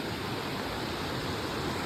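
A mountain stream rushes in a steady, even hiss of flowing water, close by and constant with no voices over it.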